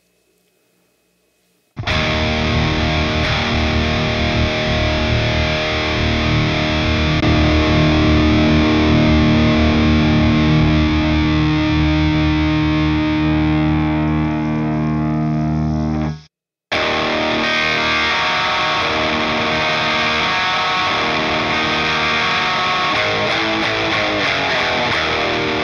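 A high-gain electric guitar plays through an ENGL E656 Steve Morse Signature 100 amp head with heavy, loud, sustained distortion. It cuts off sharply for a moment, then comes back with dense chugging riffs.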